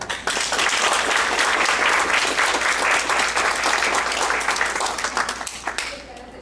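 An audience at an academic talk applauds loudly for an award-winning postgraduate thesis. The sustained clapping holds steady, then thins and fades toward the end.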